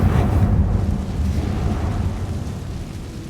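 Spell explosions from Bombarda and Confringo in the Hogwarts Legacy video game erupt as a loud, dense boom at the start, then a rumbling roar that slowly fades, with no talk.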